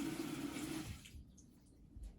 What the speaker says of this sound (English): I've rinsed my brush really well